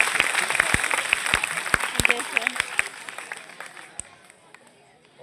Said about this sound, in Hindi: अच्छा जो भी है जोरदार तालियां।